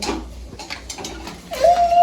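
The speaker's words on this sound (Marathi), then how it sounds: "तुम्ही ना हे पाडून टाकले कुकर." A pressure cooker knocked down in a home kitchen gives a few sharp metallic clatters and bangs, close and fairly loud, followed by a brief high tone near the end.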